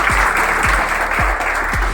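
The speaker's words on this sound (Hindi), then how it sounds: "जोरदार ताली बजाएं अपने लिए।" Clapping from an audience at an honour ceremony fills a brief, loud, close stretch, with rhythmic thumps pulsing beneath the dense patter.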